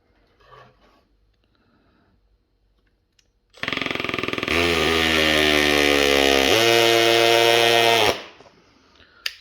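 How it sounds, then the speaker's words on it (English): A Makita 18V brushless drill on its hammer drill setting runs loud and close for about four seconds, a steady whine with a fast rattling hammer pulse that shifts pitch partway through. "So that's your hammer drill setting."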